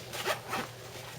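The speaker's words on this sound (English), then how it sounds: "On the bottom there's this zipper" Zipper on the bottom of a Skilcraft HydraMax hydration pack, pulled by a cord tab: two quick close rasping strokes, loud and clear with no talking.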